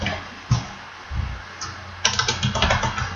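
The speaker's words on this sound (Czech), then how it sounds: "Já napíšu moje." Short bursts of keystrokes on a computer keyboard as a name is typed, a few isolated taps early on, then a quicker run of clicks toward the end; close and clear, with no talking.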